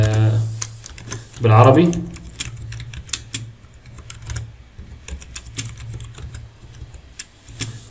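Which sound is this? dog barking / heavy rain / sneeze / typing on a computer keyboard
typing on a computer keyboard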